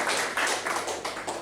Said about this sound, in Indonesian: Boleh tepuk tangan bagi Tuhan kita.